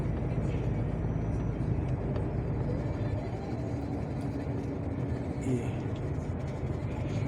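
A car drives steadily past farmland near Ostróda, Poland, passing other cars on the way; a continuous low road and engine rumble fills the background while a voice talks over it.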